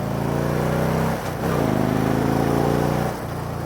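A 2013 Victory Cross Country motorcycle with about 23,000 miles runs its engine alone, a loud steady throbbing idle with two brief dips as the throttle is blipped, close to the microphone.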